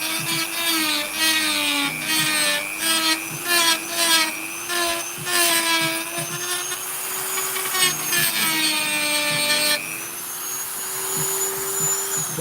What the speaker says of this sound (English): So a bit of sanding and then we...